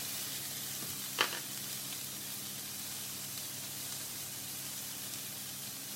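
A single yellow pepper softens in a frying pan, giving a steady, even sizzle with one brief sharp crackle near the start and no voices.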